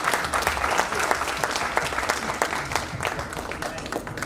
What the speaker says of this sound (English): a big round of applause for team here and his effort